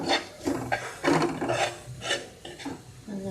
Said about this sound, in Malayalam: അതുകൊണ്ട് കുറച്ച് മഞ്ഞൾപ്പൊടി നന്നായിട്ടൊന്ന് ഇളക്കി കൊടുക്കാം.